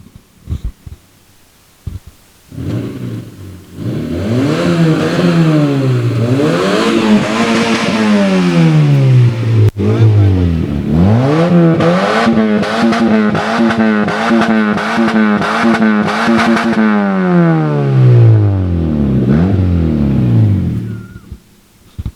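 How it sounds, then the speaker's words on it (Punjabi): A rebuilt Lamborghini-style car engine revving hard in repeated rising and falling bursts, loud and close, with a sustained high rev in the middle and a roaring climb before settling back to idle. "ਭਾਜੀ ਥੋੜੀ ਜਿਹੀ ਰੇਸ ਮਰਾ ਦਿਓ"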